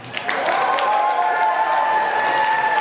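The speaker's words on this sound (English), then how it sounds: "You can hear the applause behind you there, Rob." A crowd at a UK local election count applauds and cheers in the background, a steady continuous roar of clapping with a faint tonal hum running through it.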